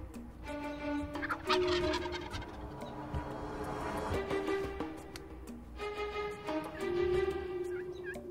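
Wild turkey toms gobbling during a spring hunt in New York State, several rolling gobbles from one or more birds at moderate distance, overlapping in bursts across the clip with no talking.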